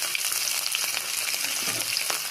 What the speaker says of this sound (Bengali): এবার ওই তেলের মধ্যেই সব ফোড়নগুলো দিয়ে দিলাম, ধনেগুলো আর আদাটাও দিয়ে দেবো।